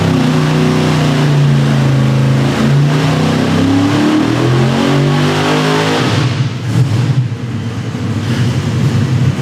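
A big block engine revs hard during a dyno test pull, a loud close roar climbing steadily in pitch before dropping off to a rougher idle-like rumble.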